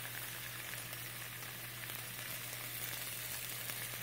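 Buttered marbled rye bread sizzles face down in a frying pan, a steady close hiss of frying that holds even throughout, with no talk over it.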